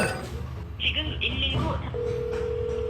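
A telephone dials the emergency number 119: a few short high keypad tones are followed by a steady ringing tone, with a voice talking over the start.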